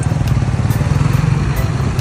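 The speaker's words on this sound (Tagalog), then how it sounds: "Gamit nga pala namin yung motor ni Kuya Kevin." A motorcycle engine running at the start of a ride in Nueva Vizcaya, a loud close throbbing putter with a fast regular pulse, steady throughout.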